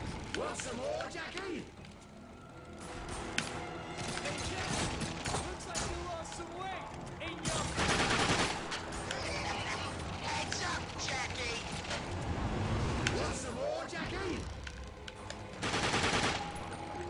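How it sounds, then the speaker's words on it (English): Enemy goons firing guns in a boss fight in the PC game The Darkness 2, heard as repeated bursts of gunfire mixed with mechanical clanks and creaks, moderately loud, with someone talking over much of it. "some of these goons just come out and start shooting at you"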